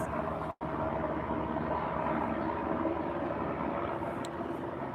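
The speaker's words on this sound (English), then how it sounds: "I'm going to have to find out exactly what it is that's happened to cause all of these helicopters to be flying over." Helicopters passing overhead outside a garden, a continuous broad engine and rotor drone that stays loud and steady throughout, with one very brief dropout early on.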